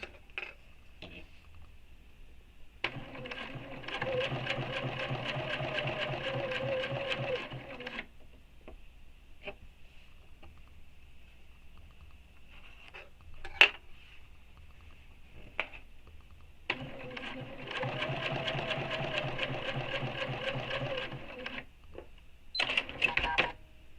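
A BERNINA sewing machine topstitching fabric at a 3.5 stitch length, running in two steady multi-second bursts with quiet pauses and small clicks between, heard close and fairly soft.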